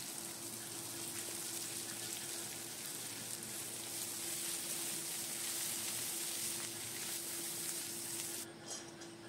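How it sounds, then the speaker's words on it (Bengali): A large onion frying in a wok gives off a steady, even sizzle that runs unbroken for about nine seconds with no one speaking, along with a faint constant hum in the background. "আর একটা বড় সাইজের পেঁয়াজ ভাজা করে নিচ্ছি আমি"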